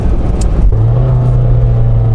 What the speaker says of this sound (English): That wasn't a happy gear change.